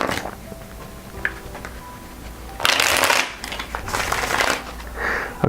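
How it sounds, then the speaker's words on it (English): Tarot cards being shuffled in quick riffling bursts, two loud rustling runs after a quieter stretch, close by with no talking. "So we're going to shuffle."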